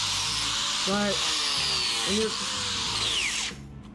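A rotary grinder carves owl feather patterns into wood, giving a steady, close, high-pitched whine with a voice talking over it. The tool runs continuously, then cuts off near the end.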